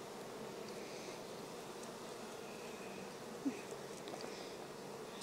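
Honey bees hum steadily around an opened beehive during an inspection, a soft continuous buzz with a few brief louder passes close by and no talk.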